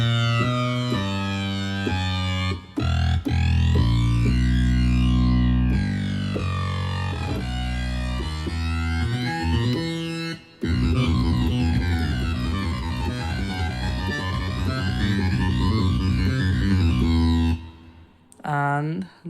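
Snarling pig synth voice, first layer: a loud, growling, distorted synth tone with squealing, siren-like pitch sweeps and throbbing modulation, sustained in long phrases broken by short cuts.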